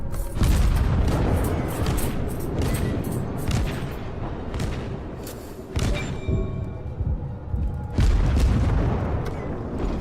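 Naval guns fire in a World of Warships battle against a destroyer and battleship, with repeated loud booms and thumping volleys in rapid succession over a rumbling game soundscape.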